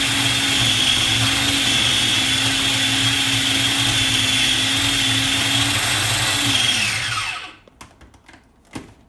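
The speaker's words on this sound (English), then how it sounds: "this does take a couple of times through, just to make sure that you're chopping up all the chickpeas" A food processor whirs loudly and steadily, chopping chickpeas for cookie dough, then winds down and stops near the end, followed by a few faint knocks.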